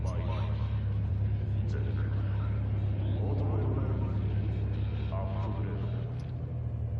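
Quad 66 Hoon car from Cyberpunk 2077 driving, a heavy low engine drone that holds steady throughout, with someone talking over it.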